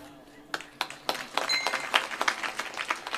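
Audience clapping at a Marathi devotional kirtan gathering, a scattered burst of claps that builds into fuller applause over a few seconds, fairly quiet and heard from a distance.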